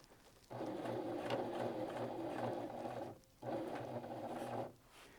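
Sewing machine fitted with a size 90 denim needle hemming jeans, running in two steady stitching bursts with a brief pause between, close and clear with a rhythmic mechanical hum.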